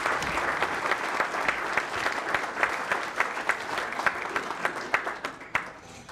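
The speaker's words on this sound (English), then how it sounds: "Please give them a round of applause" A banquet audience at a bowling hall of fame induction gives a sustained round of applause. Dense clapping is steady, then thins into a few louder individual claps and fades away at the end.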